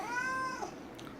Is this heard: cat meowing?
yes